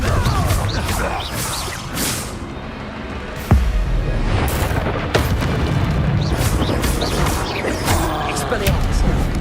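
Blasting curse explosions in a Harry Potter video game, with a sharp loud boom standing out from continuous crashing, rumbling spell effects and mechanical clatter, and a voice speaking faintly underneath.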